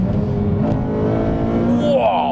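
A Honda Civic Type R FN2 Mugen engine revs hard toward VTEC, a loud, buzzy in-cabin drone climbing in pitch over about two seconds, with a voice talking over it.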